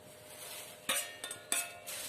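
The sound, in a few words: stirring fried peanuts and coconut slices into puffed rice chivda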